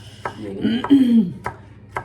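A knife chops peppers finely on a board in a home kitchen, four sharp, evenly spaced taps standing out clearly, with a short scraping or sizzling tone between them and no talking.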